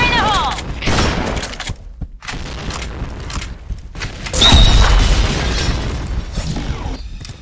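Bomb blasts and bursts of gunfire in the video game Zombie Slayer, a rapid mix of booms, pops and mechanical clatter rising to a heavy explosion midway, loud and busy with game effects throughout.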